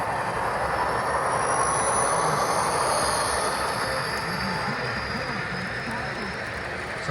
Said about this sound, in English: Comes a Reading freight train with a, looks like a GP7 on the point.